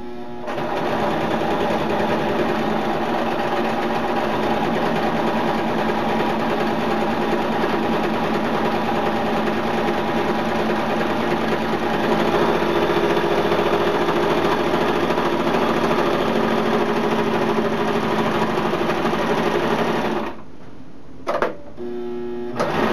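A sewing machine stitching a hammock ridge line organizer runs at a continuous, close, loud mechanical hum for about twenty seconds, then stops and gives a couple of brief final clicks.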